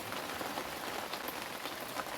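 Rain falls steadily on a cloudy day, a faint, even hiss of drops on surfaces with a few slightly louder patters, no voices over it.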